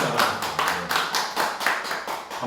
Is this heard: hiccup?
no